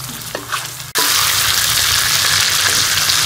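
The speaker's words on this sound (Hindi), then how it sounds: "कुकिंग ऑयल में हम कलर चेंज होने तक जो है उसको फ्राई कर लेंगे" Chicken for a Peshawari charsi karahi frying hard in hot cooking oil, a loud, steady crackling sizzle that jumps up sharply about a second in and then holds dense and even with no voices.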